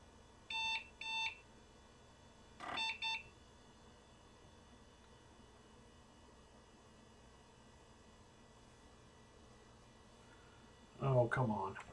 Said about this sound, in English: Or if he's just going to beep at me again.